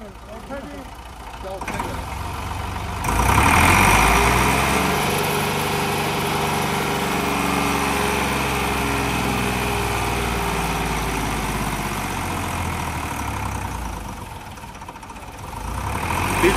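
A Massey Ferguson MF260 tractor engine labours loudly as the tractor climbs in third gear, a continuous heavy diesel drone with a rising load, close by, with a voice heard over it.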